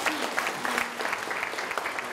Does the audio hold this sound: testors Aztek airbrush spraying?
no